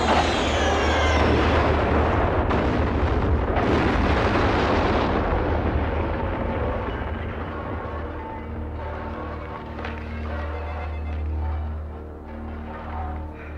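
A sci-fi weapon fires and its target explodes in a 1994 action film, a loud sustained blast with rumbling low roar and crackling debris that gradually fades over a long tail.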